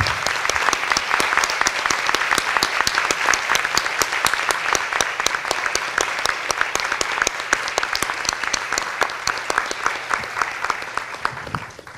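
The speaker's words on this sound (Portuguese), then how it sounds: "E uma salva de palmas para o pessoal." A crowd applauds steadily for about twelve seconds at a graduation-style ceremony where classes of students stand, the many hands forming a sustained, even patter that fades out at the end.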